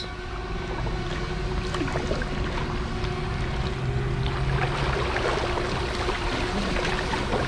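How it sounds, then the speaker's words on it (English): Kayak paddle strokes move the boat forward on open water, a steady wash of water and gentle splashing running continuously at moderate level with no voices. "We want to look forward, we want to rotate our torso, and we want to paddle forward."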